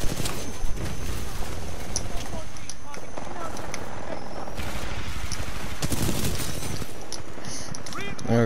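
Shots in Titanfall 2 attrition mode, a Wingman pistol firing amid ongoing gunfire and battle noise, with sharp reports scattered over a busy, loud mix while a player talks.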